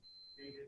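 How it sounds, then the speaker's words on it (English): A single faint, steady electronic beep from an alarm on a meter, sounding briefly at low volume. "I hear some beeping."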